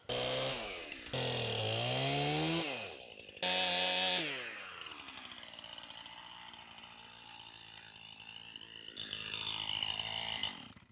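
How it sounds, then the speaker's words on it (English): A chainsaw roars close by, its pitch rising and falling as it revs and bites into small overhanging trees, then settles into a steadier idle-like drone. "We're gonna chainsaw some little trees and stuff that are hanging down."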